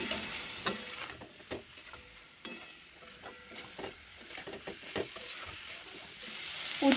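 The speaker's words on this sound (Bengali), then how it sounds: "উচ্ছেগুলো দিয়ে আরও কিছুক্ষণ আমি একটু নাড়াচাড়া করে নেব।" Bitter gourd that was fried earlier is stirred in a cooking pan, giving soft, irregular scraping and clacking strokes over a faint, steady sizzle, close and moderately quiet, with no talk.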